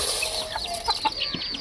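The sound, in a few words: hen clucking while feeding with her chicks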